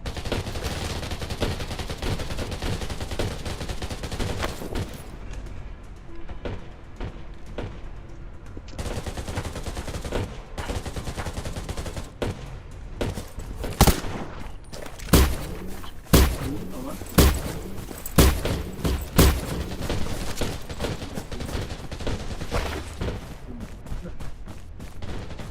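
Gunfire in the survival shooter Undawn: a rapid string of loud sharp shots and bursts clustered in the second half, rising above a steady low rumble of game ambience.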